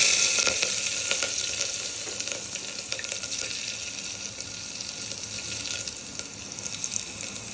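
Green chillies hit hot oil already seasoned with asafoetida, on a low gas flame for a Gujarati potato-and-onion sabzi. A steady, close hiss of frying sizzle runs throughout with no talking.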